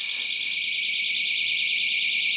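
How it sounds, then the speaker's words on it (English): A door alarm fitted to a basement door goes off, sounding a loud, steady, high electronic tone that holds without a break. "One of the door alarms that Kenny attached to the basement door started going off"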